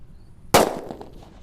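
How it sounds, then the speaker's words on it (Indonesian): A sunflower firecracker goes off outdoors with a single sharp, loud crack followed by a short crackling, rumbling decay. "Banter tenan ini mercon sunflower."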